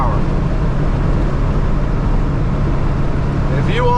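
A Ford 7.3 Power Stroke diesel engine drones steadily and loudly with a low rumble throughout, sounding like it is heard from inside or near the vehicle while hauling on the road.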